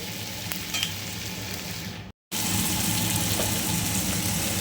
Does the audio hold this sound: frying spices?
yes